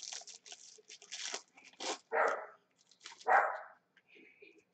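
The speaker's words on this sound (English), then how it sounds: "Dog's awake." A Yorkie barks in a few short, sharp yaps indoors, loud and close, breaking into a stretch of someone talking quietly.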